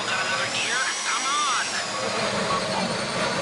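A power drill in a video game scene whines steadily and loudly, its pitch wavering and sweeping throughout, with no one talking over it.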